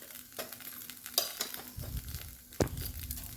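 Mustard seeds and cumin crackle and sizzle in hot oil in a pan, with sharp pops and light stirring clinks, close and fairly quiet, no talking.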